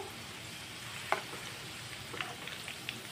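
Soft, continuous sizzle of aloo juri (potato fritters) deep frying in oil, with a few sharp pops, fairly quiet.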